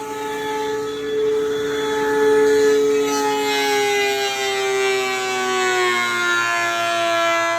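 A wood planer runs steadily while making a pass over an epoxy resin and walnut shelf board, giving a loud continuous whine with a slowly falling pitch throughout and no talk.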